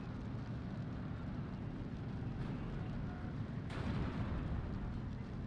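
Dense, continuous battle din from a World War II real-time strategy game: heavy gunfire and artillery rumbling together at steady loudness, with a sharper burst near the end and no voices.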